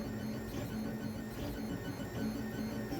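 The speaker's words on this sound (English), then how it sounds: "if you look at the printer, you can see it's starting to create the bottom layer" A 3D printer laying down the bottom layer of a hippo model on a glass bed gives a steady, droning mechanical hum with a low whine and faint stepper-motor buzzing, continuous and fairly loud, with no speech.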